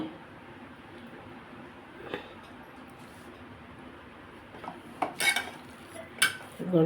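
Cooked moong dal is mashed in a pot with a spoon, first quiet stirring, then a cluster of sharp metallic clinks and scrapes against the pot toward the end.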